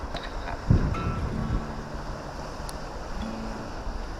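Wind and waves wash steadily along the rocky, boulder-strewn shore of Saltom Bay in the Lake District at low water, a constant broadband rush with gusty microphone buffeting and no talk.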